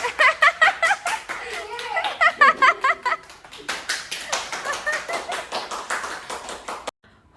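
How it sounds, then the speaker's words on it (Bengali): Hands clap in quick rhythmic bursts close by, a few rounds of sharp claps that keep going in a looser pattern, with faint chatter in the background. "কেন হাততালি দিচ্ছে?"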